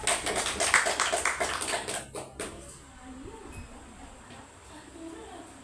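Brief applause from a small group of students in a classroom counselling session, a quick burst of close clapping lasting about two seconds, then a quiet room with a soft voice.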